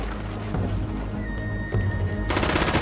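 Automatic weapon fire in the video game Rainbow Six Siege, a dense rattling burst with a steady metallic hum behind it, ending in a louder wash of shots.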